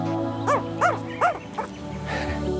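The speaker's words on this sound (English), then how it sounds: "Those little sounds are so cute," Tasmanian devil joeys make several short, high, whimpering cries in quick succession, close by and fairly soft, over a low background hum.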